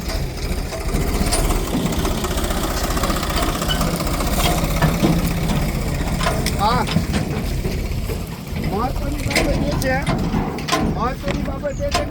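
A tractor engine chugs steadily at idle throughout, loud and close, with a few squeaks and faint voices in the background.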